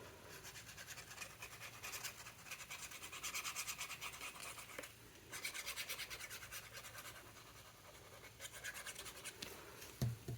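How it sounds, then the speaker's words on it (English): Glue being spread across a paper page of a small handmade album, heard as faint close scratching and rubbing strokes that come in short bursts, with a brief knock near the end. "put glue on this side when it's sitting like this"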